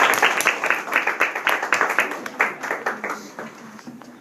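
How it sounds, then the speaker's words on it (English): Sustained applause from a conference session audience, many hands clapping close and dense with distinct individual claps poking through, tapering slightly toward the end. "just a round of applause for everyone."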